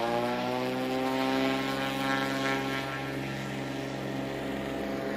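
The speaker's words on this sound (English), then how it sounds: "And Jim Kasich on the takeoff roll" A STOL propeller plane roars through its takeoff roll at a high-altitude Wyoming competition, a loud, steady engine drone with harmonic prop tones that ease slightly after a few seconds.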